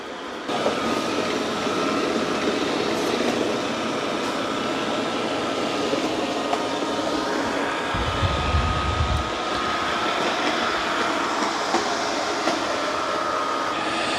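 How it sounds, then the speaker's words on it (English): Two budget robot vacuums, a Roomba 105 and a Eufy C10 with lidar navigation, run across a floor: a steady broadband whir with motor hum and brush noise, loud and continuous, with a brief low thump partway through. "It's doing a great job of vacuuming."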